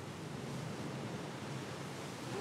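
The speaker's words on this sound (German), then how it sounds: "Und es macht Spaß, den Wellen auszuweichen." Sea waves wash onto a Madeira shore in a dense, steady roar of surf, close and loud and unbroken throughout, with no voices.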